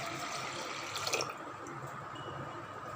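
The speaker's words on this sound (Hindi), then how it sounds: "अब इसमें हम 2 कप पानी डालेंगे" Water poured into a pressure cooker holding soaked toor dal, a soft continuous trickle and splash with a brief brighter gush partway through, fairly faint and alone.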